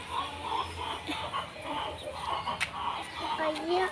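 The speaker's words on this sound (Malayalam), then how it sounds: "ഇവിടെ ഇവര് ഷൂ ഇട്ട കോഴികളുണ്ട്, നല്ല മുടിയൊക്കെ ഉള്ള" Feather-footed chickens cluck close by in short, repeated murmuring calls, with other birds and faint background noise around them.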